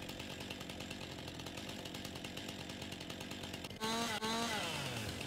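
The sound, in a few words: chainsaw trimming tree limbs in video game Farming Simulator 22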